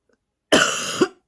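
A single sharp, close cough from a person, a short harsh burst after silence, ending with a throaty catch.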